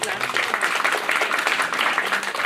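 Audience applause at a hostel event for students, clapping for the girl students; steady, dense clapping from a crowd continues throughout at an even level.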